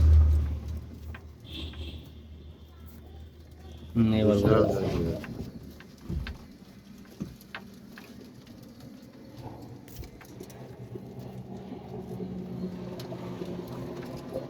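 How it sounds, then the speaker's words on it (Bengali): Native and wild pigeons on a pigeon farm, including red-colored native birds, give soft low coos amid farm background noise. A louder burst of fluttering or handling sound comes partway through, and faint vehicle-like engine noise sits underneath. "তো দেখতে পাচ্ছেন একটি দেশি কবুতরের খামার এখানে বেশ কিছু মাঠান বুনো কবুতর আছে"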